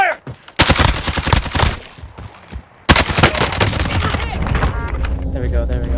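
Warzone battle royale gunfire: loud bursts of automatic weapon fire and shots crack in close, dense rapid volleys with short pauses, continuing steadily alongside talk.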